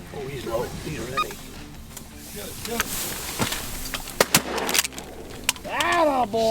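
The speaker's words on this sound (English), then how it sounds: "Simultaneous shot. I only heard one shot and three people shot." Goose hunters firing at speckle-belly geese, several sharp gunshot cracks near the middle and end of the stretch, mixed with goose honks and people talking outdoors.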